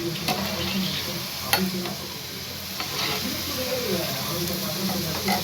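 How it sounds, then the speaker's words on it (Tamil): Maida-dough sweets frying slowly over low heat in a pan of oil, a steady soft sizzle running throughout with occasional faint clicks of a utensil, no voices. "சிம்மில் வச்சு மெதுவாக பொரிச்சு எடுப்போம்."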